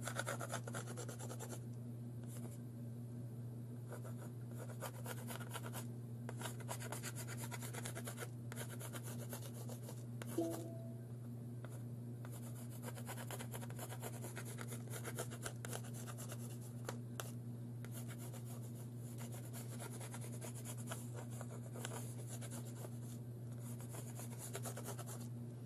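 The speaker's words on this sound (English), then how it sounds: "I'm not pushing very hard on the pencil." A pencil sketching loose, light lines on paper, a soft, close rubbing and scratching of strokes running continuously over a steady low hum.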